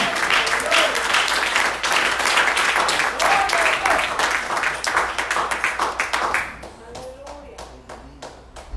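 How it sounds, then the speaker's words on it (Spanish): A church congregation claps in dense, steady applause for about six seconds before it thins to scattered, fading claps, with faint voices mixed in. "Denle un aplauso porque él lo merece"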